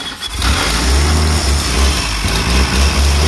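An old classic car engine, found in a warehouse, catches and runs on starting fluid, roaring loud and close with a steady low rumble and slight revving throughout.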